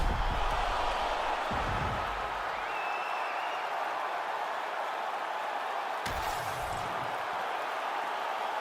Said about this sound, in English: an appreciative capacity crowd on its feet as this next round gets underway